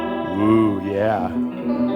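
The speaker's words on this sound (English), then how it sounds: "So it's got tons of delay and chorusing effect" A Taylor electric guitar drenched in reverb, delay and chorus, its sustained notes bending and smearing into a shimmering, echoing wash, loud and close.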